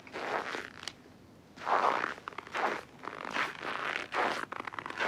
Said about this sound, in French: C'est le bruit du pas sur le quai d'une gare du Grand Nord.